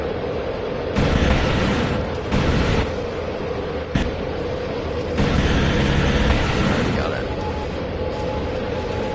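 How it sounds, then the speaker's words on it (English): Aircraft guns firing at a balloon in the VRChat video game: loud bursts of sustained gunfire come in several separate stretches over a constant engine drone, with talk in between. "Looks to be another balloon here, so we're gonna gun this thing down."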